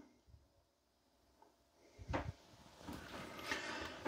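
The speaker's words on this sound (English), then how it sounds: "They are full extending ball bearing drawer guided drawers with the soft close too." A full-extension ball-bearing soft-close drawer in a 2024 River Ranch 393RL fifth-wheel RV closet slides with a short rolling rumble, then a soft thud as it eases shut, followed by faint rustling nearby.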